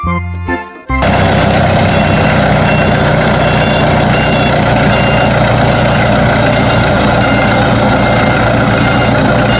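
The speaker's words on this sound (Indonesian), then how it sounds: "Ini mobil penarik pesawat terbang" An aircraft tow tractor's engine rumbles loudly and steadily at idle. A short burst of reversing beeps and other sounds comes right at the start, then the heavy engine drone carries on alone.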